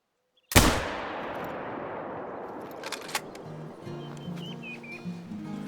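A single sharp hunting rifle shot cracks out in Hunter Call of the Wild, loud and close, its boom trailing off into a long rolling echo across open terrain while faint ambient sounds continue.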